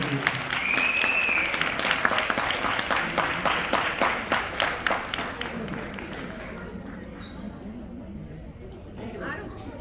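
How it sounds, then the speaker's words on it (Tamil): An audience at a Tamil music and dance event bursts into applause, steady rhythmic clapping that swells and then tapers off, with some chatter in the crowd. "நல்ல ஒரு கைத்தட்ட."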